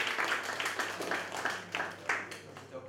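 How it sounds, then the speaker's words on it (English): Scattered clapping from a small seminar audience at a professional talk, a few irregular claps standing out over a steady hum, fairly faint and brief rather than a full ovation. "Claps for him."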